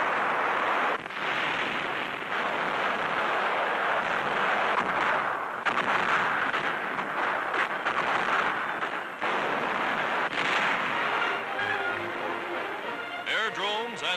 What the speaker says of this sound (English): after 18 days of continuous pounding, the island stronghold crumbles beneath the attack